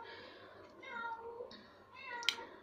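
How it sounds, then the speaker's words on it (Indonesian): A pet cat meows a few times, faint and somewhat distant, in short drawn-out calls with a brief sharp click near the end, and a voice talks quietly underneath. "itu kucing aku yang satu lagi, tau nggak, dia baru melahirkan"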